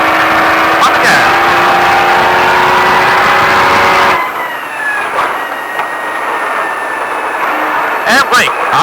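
A Baja truck on a Las Vegas track roars at full throttle, engine loud and close for several seconds before dropping off abruptly to a quieter rumble with wind noise.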